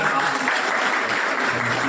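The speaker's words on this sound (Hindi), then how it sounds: "जोरदार तालियां बजाकर" A brief burst of audience clapping at an eye lens implant and screening camp event, dense and steady with voices faintly underneath.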